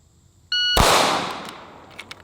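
A single sharp, loud shot from an FP45 Liberator pistol fired at a watermelon. A brief click comes just before the blast, and a reverberating tail fades over about a second outdoors.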